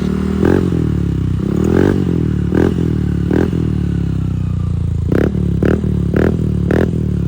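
Yamaha Aerox V3 scooter fitted with a TRC Power 5 exhaust, revved repeatedly in short sharp blips over a rumbling idle, loud and close, with about eight throttle bursts.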